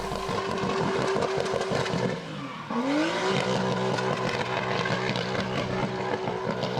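A car drifting and doing a hard burnout at the Summer Nats lets out a loud, sustained engine roar over continuous tyre squeal, briefly dipping in the middle before the revs climb again as the tyre gives out.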